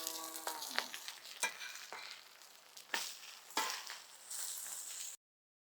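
Pieces of a large silver fish fry in masala on banana leaf, sizzling in a continuous crackle punctuated by sharp scraping and turning clatters, then cutting off abruptly near the end.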